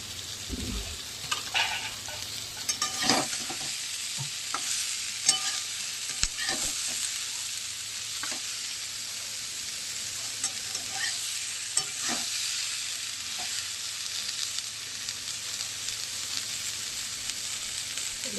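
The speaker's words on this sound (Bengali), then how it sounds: "ভাজতে থাকুক" Fish and cabbage stalks frying in a pan give a steady, close sizzle, broken by scattered scrapes and taps of stirring throughout, with no voices.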